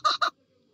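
A partridge in the Roblox game Feather Family gives a short call, two quick harsh squawks close together followed by silence.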